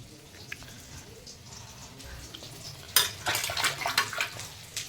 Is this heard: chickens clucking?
no